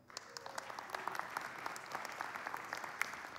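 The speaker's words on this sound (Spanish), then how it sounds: "Denle un aplauso a los que fueron" Congregation clapping at a Spanish-language church service, a moderate, fairly distant patter of many hands with sharper individual claps standing out, no talk over it.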